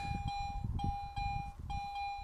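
A Garrett metal detector gives a steady, repeating tonal beep while scanning a dig site in Mazovia for buried relics such as bullets or shell casings. Several moderately loud pulses ring out over rustling handling noise.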